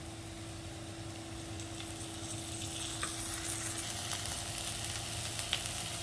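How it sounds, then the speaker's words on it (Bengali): Ginger-garlic paste goes into onions already fried reddish-brown with salt, producing a faint, even sizzle with a few soft clicks of stirring over a low background hum. "পেঁয়াজটা লাল লাল করে ভাজা হয়ে গেছে, এবার আদা রসুন দিয়ে বাটা দিয়ে দেবো।"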